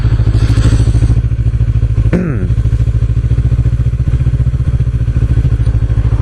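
A Kawasaki ER6F motorcycle engine running loud and close, a steady throbbing drone with a brief rising rev and a clattering scrape partway through, no voices.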